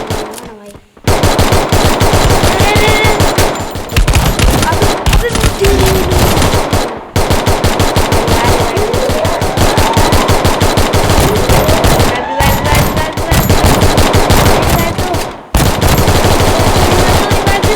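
Loud automatic gunfire in the Free Fire video game pours out in long rapid bursts, separated by a few short pauses, sharp and close throughout.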